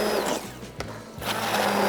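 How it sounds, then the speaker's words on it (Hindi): Hand blender grinding a smooth paste for malai chaanp masala, a steady loud motor whir that dips briefly in the middle and then resumes at full strength. "और ये आ गया हमारे पास इसका हैंड ब्लेंडर, और अब इसको हमने पीसना है।"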